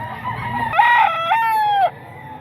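A white Kelso gamecock crows once, loud and close, a sustained multi-part call lasting over a second before cutting off, with softer clucking and low background noise just before it.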